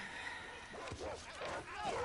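Dogs yip and whimper in a tense scene from The Last of Us Part II, short excited canine cries rising over a low background, with speech mixed in.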